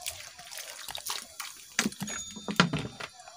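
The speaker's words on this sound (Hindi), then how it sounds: "इसमें पानी ऐड कर दूँगी तकरीबन 2 गिलास के करीब।" About two glasses of water splash and trickle into a pot of cooking beef in short bursts, with a few clinks and knocks of the container, close by.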